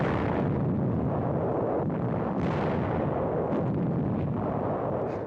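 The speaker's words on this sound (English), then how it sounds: "Tank destroyers are brought up to pound the caves." Tank destroyers and guns shelling enemy cave positions in wartime combat footage, a dense continuous rumble of heavy blasts and artillery fire, loud and roaring without clear gaps.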